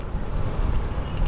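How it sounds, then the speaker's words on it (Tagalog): Strong wind buffets the microphone while riding a motorcycle on a food delivery run, a steady loud low rumble of gusting air filling the whole moment with no voices. "Ang lakas ng hangin."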